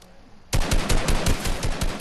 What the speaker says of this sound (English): Oh, Kieran, you hear that shotgun, bro?